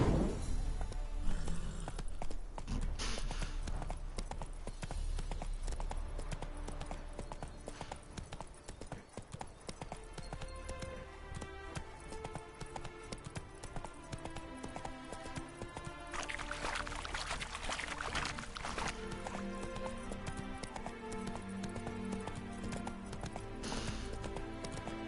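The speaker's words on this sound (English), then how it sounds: "Spooking my horse." Hooves of the horse Roach clip-clopping in The Witcher 3, a steady rhythmic patter of footfalls running under a continuous bed of game music and ambience, moderately quiet.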